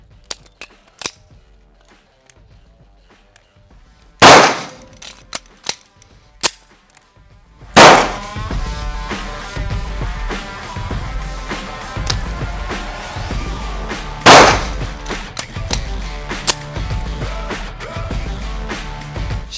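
Three sharp, loud pistol shots are spaced several seconds apart, with metallic clicks and clacks of a tactical magazine reload between them, fired at close range.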